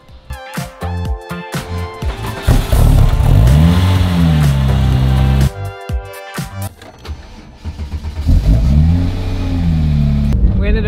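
A loud drag car engine revs repeatedly in Manila, rising and falling in pitch, close by with steady rumble and some voices underneath.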